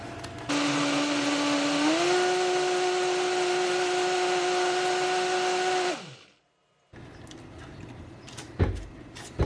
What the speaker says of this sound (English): Fingers crossed that's enough blending